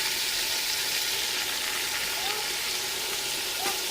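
Chunks of chicken fry with packaged nihari masala in ghee, giving a steady, close, continuous sizzle that stays even throughout with no pauses.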